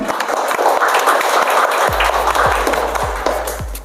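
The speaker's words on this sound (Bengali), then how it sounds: "জোরে একটা হাততালি হয়ে যাক" Audience at a kids' quiz reality show claps loudly after a correct answer, a dense burst of applause throughout, with a few low thumps toward the end.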